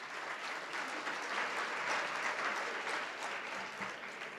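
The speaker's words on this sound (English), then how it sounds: "Please give a round of applause to our sponsors." Audience applause for event sponsors at a 2014 media predictions event, a steady roomful of clapping sustained throughout without voices.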